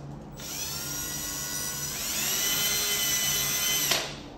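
A small hole drilled with a power drill, a close high whine that rises in pitch partway through and runs steadily before cutting off sharply near the end, heard alone without speech.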